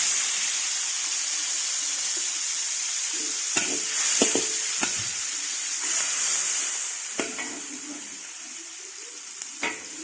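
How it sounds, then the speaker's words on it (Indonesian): Garlic and shallots sizzle in hot oil in a large wok for white fried rice, a steady bright hiss broken by several sharp scraping clanks of a spatula against the metal, close and loud. "Kita tumis bawang putih,"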